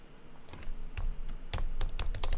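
Computer keyboard keys clatter as a title is retyped in Adobe InDesign, starting with scattered clicks and building into a faster, denser run of keystrokes, close and clear with no speech.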